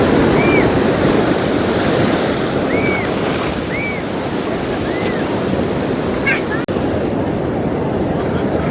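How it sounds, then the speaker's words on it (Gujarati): Sea waves at the Okha shore wash and roar loudly and continuously, with strong wind buffeting the microphone and faint bird calls over the surf. "જોઈ લ્યો દરિયો આખે આખો ઓખાનો"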